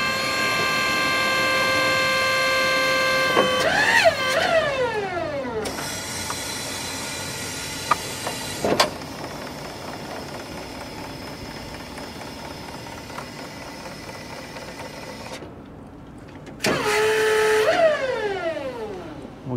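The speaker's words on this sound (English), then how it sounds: "And then we also have our reach function, which is the most impressive and favorite function of this forklift." A Crown 30WRTT 3,000 lb 24V electric walkie stacker works its reach function: an electric motor whines in rising and falling tones over a steady hiss, in two separate runs with a quieter hum between them and no talk.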